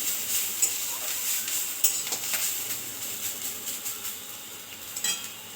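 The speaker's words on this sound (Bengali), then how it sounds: "একটুখানি জাস্ট নাড়াচাড়া করে নেব, খুব বেশি ভাজার দরকার নেই" Light sizzling in a pan with repeated scraping and tapping of a spatula as grated coconut is stirred, no talking.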